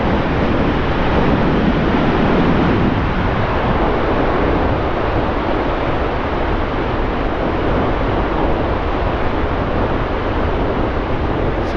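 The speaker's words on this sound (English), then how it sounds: "That's a proper bass sea, isn't it?" Waves break on the Bristol Channel shore at Brean, UK, as a continuous loud wash of surf with wind buffeting the microphone and no voices.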